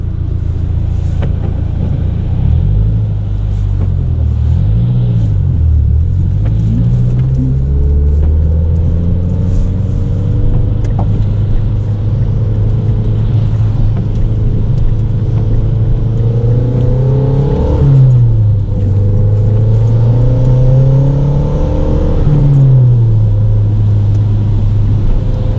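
A turbocharged Mazdaspeed3 with a non-factory turbo revs up and down through gear changes on a test drive, a loud engine drone rising and falling in pitch with repeated shifts.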